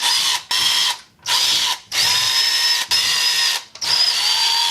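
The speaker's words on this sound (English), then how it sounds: "Got our handy dandy impact. And let's get away with these bolts." An impact wrench spins out the six 8mm bolts on a Predator 79cc engine cover in four or five loud, close, high-pitched whirring bursts separated by short pauses.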